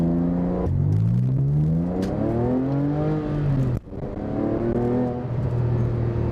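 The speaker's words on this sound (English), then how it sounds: "I definitely like the exhaust sound and what it does to the sound with this particular aftermarket exhaust" A Porsche or Aston Martin sports car engine revs up and down through the gears, its aftermarket exhaust giving a loud, throaty, rising-and-falling growl with a brief cut mid-way.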